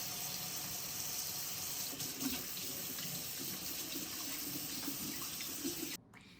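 Tap water runs steadily into a sink for hand washing before preparing pizza quesadillas for kids, a continuous close splashing flow that cuts off abruptly near the end.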